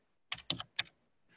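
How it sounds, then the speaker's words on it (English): A few quick keystrokes tapped on a computer keyboard, three or four close, crisp clicks in a brief burst, then a soft final tap in an otherwise quiet room. "Let's add another one and I'll just type in computer again."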